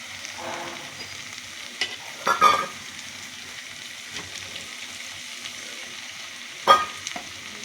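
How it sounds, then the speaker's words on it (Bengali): A steady, soft sizzle of peas frying in a pan, with occasional scraping stirs and clinks of a utensil; no one speaks. "এবার মটরশুঁটি দিয়ে আর একটু ভাজা ভাজা করে নিই, একটু কষিয়ে নিই"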